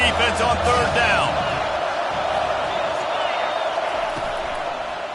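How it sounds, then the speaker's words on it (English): Football stadium crowd at a Stanford vs Clemson game roaring as the home defense faces third down, a loud sustained wall of cheering and whoops that swells early and stays dense throughout. "Decibels rising as the crowd gets behind this defense on 3rd down."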